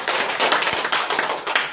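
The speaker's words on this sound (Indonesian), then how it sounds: "Tepuk tangan untuk kepercayaan ini" Loud, close clapping from a crowd at an Indonesian elementary school's National Education Day 2024 ceremony, a brief, dense burst of hand claps with quick taps and a single dull thump, lasting under two seconds.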